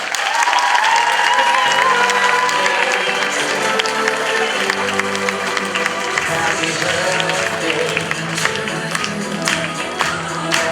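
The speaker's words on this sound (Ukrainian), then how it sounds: "Оплески!" Sustained applause and clapping from a crowd at a graduation creative show, steady and loud throughout with scattered cheers mixed in.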